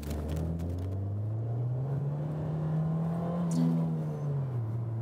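A Nissan Juke Nismo RS crossover hot hatch (2015/2016) pulls hard under full throttle in second gear. Its engine note climbs steadily and stays close and loud, with no one speaking.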